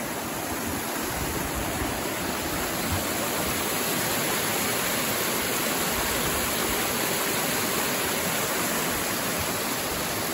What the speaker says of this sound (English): Little waterfalls, guys.